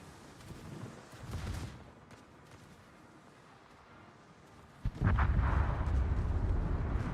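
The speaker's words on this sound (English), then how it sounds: "he hit our sub with a torpedo and he's flooding" A torpedo strikes a submarine in a naval combat video game, a deep booming explosion that swells in abruptly and rumbles on loudly after a fainter blast a few seconds earlier.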